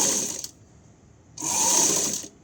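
Sewing machine stitching piping onto a lined blouse, two separate runs of steady whirring, fairly close, with a quiet pause between them and no talk.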